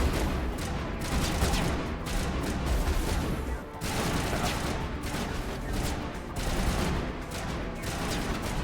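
Rapid, sustained gunfire in the Mass Effect video game, dense bursts of shots rattling almost continuously with a brief lull midway and only faint voices beneath.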